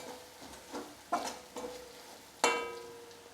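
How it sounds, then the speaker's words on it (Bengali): Cumin and coriander powder are stirred in a frying pan with a spatula, giving a handful of light, spaced scrapes and taps over a faint sizzle, close and quiet with no talking. "দিয়ে এটা একটু নেড়ে নেব।"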